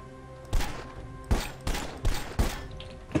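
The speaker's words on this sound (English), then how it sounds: "I hear you shooting" Sharp gunshots in Red Faction Guerrilla, five or six loud, separate blasts at uneven intervals over about three seconds, each with a short echoing tail.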